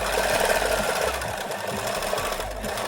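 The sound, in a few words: sewing machine stitching garter onto fabric face mask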